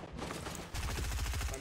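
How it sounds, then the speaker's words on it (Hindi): Gunfire in the Fortnite video game comes as rapid rhythmic bursts of shots that grow denser and louder partway through, over a constant game background. "ओ मैंने वाह शॉट मारी, टू हेडशॉट थी"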